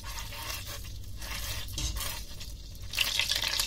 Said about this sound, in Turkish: Şimdi ocağın altını açtım ve yağı eritiyorum.